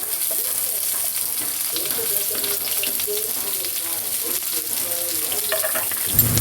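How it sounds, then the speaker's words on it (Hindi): Roughly chopped onions fry in a few spoonfuls of oil for a pea curry, a steady close sizzle with faint stirring, and a clatter right at the end. "बड़े चम्मच हमें तेल डालना है और साथ में हम इसमें डालेंगे रफली चॉप प्याज।"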